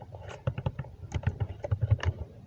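Keys tapped on a computer keyboard in a steady run of close, crisp clicks with uneven rhythm, heard alone without talk.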